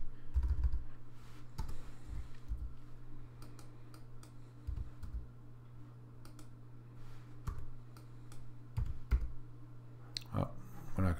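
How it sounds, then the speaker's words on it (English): Computer keyboard typing during a stock portfolio review, a run of scattered clicks and key presses with brief pauses, fairly close over a steady low hum. "I'm not sure why the keyboard doesn't want to input that."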